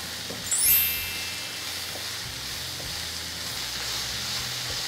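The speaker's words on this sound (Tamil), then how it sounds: "இப்போ ஃப்ளேம் அதிகப்படுத்திட்டு நல்லா ஒரு 3-4 நிமிஷம் இதை நீங்கள் வதக்கி விடணும்." Chopped banana flower is sautéed over a high flame, with a steady, moderate hiss and sizzle throughout and a brief, brighter hissing burst near the start.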